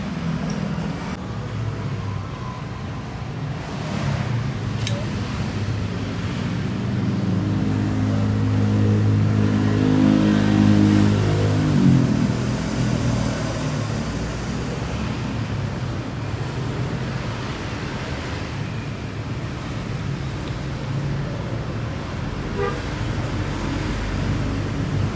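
A classic 1986 Vespa Strada scooter engine is heard on the road, its buzzing revs swelling and easing midway, largely buried under constant heavy wind rush from riding.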